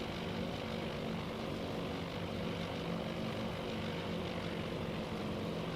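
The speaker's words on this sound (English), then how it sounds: "You can see enemy zeros swooping through the formation." Japanese Zero fighters swoop through a formation in the Midway scenario of the game Task Force Admiral, giving a continuous, dense droning of propeller engines with slight rises in intensity and no talking.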